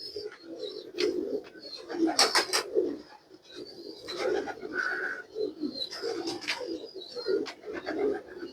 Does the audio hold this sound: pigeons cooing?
yes